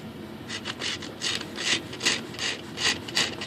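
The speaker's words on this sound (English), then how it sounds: "I think I'm just going to try to get the sanding block under the" A sanding block rubs back and forth along the edge of a flap on an E-flite Apprentice S 15e RC plane, giving close, rhythmic rasping strokes, about ten in a steady series, with no talk.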